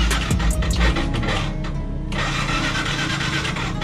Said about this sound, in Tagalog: pag tinatadyakan mo pag pinapostart